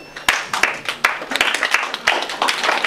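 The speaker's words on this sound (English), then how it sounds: "clap your hands for me" An audience claps hands together at a church poetry event, with irregular sharp claps that thicken into a scattered round of applause.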